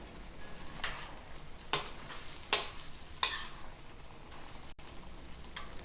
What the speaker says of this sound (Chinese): 把它翻炒一下